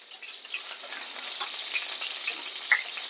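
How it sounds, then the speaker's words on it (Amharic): Chicken sizzles in oil in a pan, a close, steady crackling fry with scattered pops and no talking. "ዶሮ በዚህ መልኩ ተጠብሷል ማለት ነው።"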